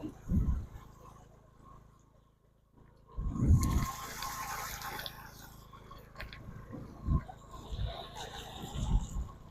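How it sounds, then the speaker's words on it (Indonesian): Floodwater from an overflowing river rushing across an asphalt road in Indonesia, a continuous gushing flow punctuated by several loud, close splashing bursts. "Kita berjalan di tengah derasnya air."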